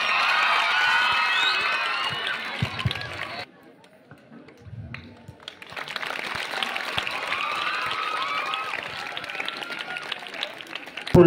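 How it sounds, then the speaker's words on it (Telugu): Audience applause welcoming an MLA at a school event, a loud sustained wave of clapping that breaks off briefly, then swells back and continues steadily to the end. "అందరూ చప్పట్లతో స్వాగతించాలని చెప్పి కోరుతున్నాం."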